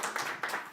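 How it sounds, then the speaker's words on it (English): Short burst of congregation clapping at a religious service welcoming its presider, a brief, fairly quiet patter of many hands with no voices on top. "let's give her a big round of applause"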